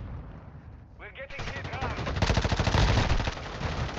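Rapid automatic gunfire in the Warzone Mobile video game, a dense burst of close shots striking the player, starting after a brief voice and building over a couple of seconds.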